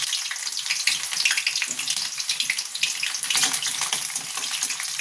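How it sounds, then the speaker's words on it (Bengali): Sliced onions hiss as they hit hot oil for a chicken and bottle gourd curry, a dense, continuous sizzle with crackling spatter, close and loud throughout with no talking. "তেলটা গরম হয়ে গেছে, এবার আমি পেঁয়াজটা দেব।"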